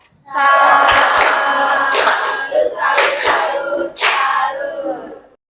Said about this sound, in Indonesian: Kasih tepuk salut untuk Mbak Livia.